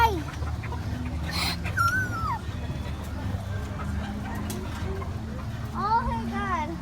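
A puppy whimpers with thin, high, rising and falling whines near the start and again near the end, under a steady murmur of people talking and children's voices.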